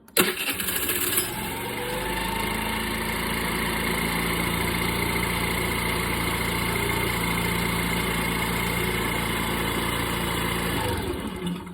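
Scooter engine idling steadily up close, a continuous buzzing drone that holds even from start to finish after a brief louder burst at the beginning.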